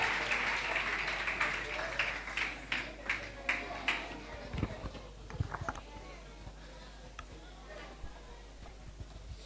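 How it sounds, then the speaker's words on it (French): Audience applause for children at a stage event in a hall, a burst of clapping that thins out into scattered claps over several seconds. "Applaudissez-les, s'il vous plaît."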